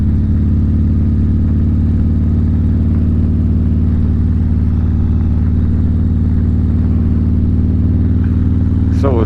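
A car engine hums at a steady low drone in third gear along a rural Tennessee backroad, loud and constant with no clear change in revs.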